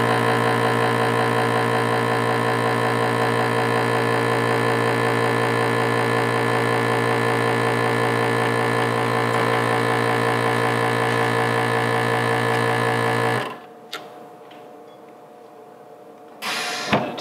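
Vacuum sealer pulling air from a bag of elk meat, a loud steady mechanical hum for about thirteen seconds that cuts off abruptly, followed by quiet with a few faint clicks and handling noises.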